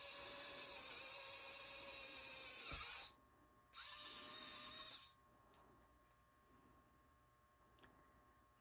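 A cordless drill bores through a resin-filled wood blank in two bursts of high, steady whine, the first about three seconds long and the second shorter. Quiet follows, broken only by faint handling clicks.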